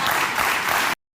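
An audience claps in sustained, dense applause at a television comedy show, loud and steady for about a second before cutting off abruptly.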